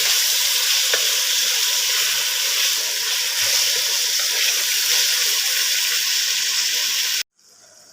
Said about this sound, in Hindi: 2 से 3 मिनट हमने इसको ऑयल में फ्राई करना है प्याज के साथ ही।